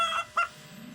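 A cartoon chicken in PAW Patrol gives two quick nasal clucks, close and clear, one right after the other with no talk over them.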